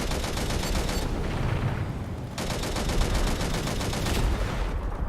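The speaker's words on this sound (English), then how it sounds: "That's a big ship shooting at me." A big ship fires on the player in the video game Angels Fall First, rapid dense gunfire rattling in sustained bursts with a brief lull, loud and close throughout.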